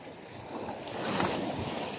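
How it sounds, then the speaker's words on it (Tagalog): Steady wash of sea waves at a beach, a broad continuous surf roar with wind noise that swells slightly louder midway, heard alone without voices. "Buyag ang dagat guys."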